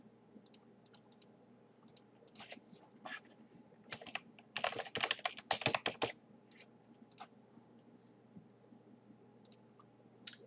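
Computer keyboard typing while entering login details on a web hosting account page, rapid clicky keystrokes in irregular bursts, densest in a flurry mid-clip, close and fairly quiet with no talking.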